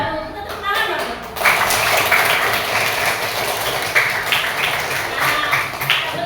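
Classroom pupils clap their hands together in dense, sustained applause that swells after a brief quieter start and continues steadily to the end, with children's voices mixed in.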